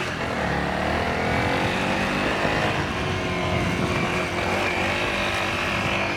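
A Honda CRF300L dual-sport motorcycle climbs a hill, its engine droning loud and steady throughout, close up with continuous mechanical roar and no break.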